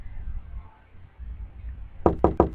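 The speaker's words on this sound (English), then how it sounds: "somebody knocks at your door" A quick burst of four sharp knocks on a door sounds close and loud, following a stretch of quiet room noise.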